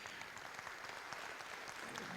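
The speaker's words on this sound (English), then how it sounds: "Let's give them a round of applause." Audience applause at a federal election debate hosted by a chamber of commerce, a steady dense wash of clapping that holds at an even level throughout, with no voices standing out.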